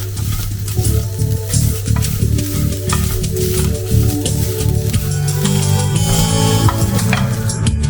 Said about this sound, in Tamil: தேங்காய் அதையும் சேர்த்து ரோஸ்ட் பண்ணிடுறோம்